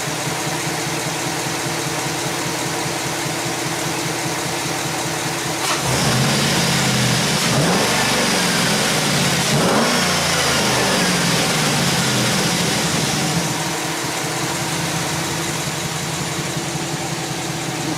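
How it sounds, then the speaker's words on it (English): A 2009 Chevy Silverado with an AFM engine and a misfire idles, then revs up and settles back to idle, heard close and loud with no talking. "Let me rev it up a couple of times."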